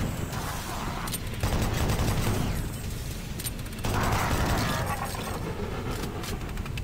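Rocket launcher fire and blasts in Doom 3: Resurrection of Evil, with dense mechanical clatter and two louder bursts of firing and explosion layered over constant game noise.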